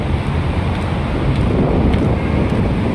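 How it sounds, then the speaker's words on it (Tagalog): Steady, rumbling wind buffets the microphone with a continuous low roar, loud and unbroken throughout. "Ang sarap ng hangin"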